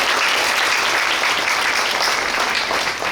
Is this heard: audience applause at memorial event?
yes